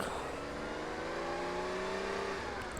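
A car driving off in the video game UA Online, its engine whirring and revving steadily upward with rising tone, loud and continuous without talk.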